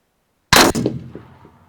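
A single sharp rifle shot at 400 metres cracks loudly after silence, followed by a fading echo that rolls away over about a second.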